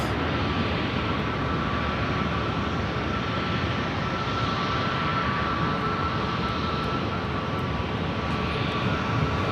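A fixed-wing airplane taking off from runway 24 left at LAX, its engines producing a loud, steady, continuous roar that holds throughout with no voices.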